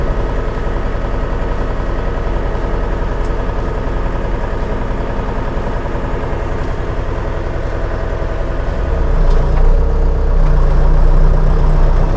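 A new DTZ 504 tractor's heavy engine rumbles steadily and close in low gear during break-in, its low drone thickening and growing a little louder near the end as if shifting load.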